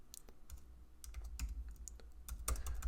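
Fast, uneven bursts of keystrokes on a computer keyboard while coding an app, crisp clicks clustered in short runs with brief pauses, close and moderately quiet, no talking.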